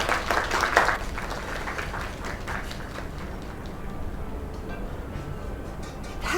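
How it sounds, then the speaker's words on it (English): A crowd applauds, a burst of loud clapping at the start that settles into steady, moderate applause throughout. "Another round of applause."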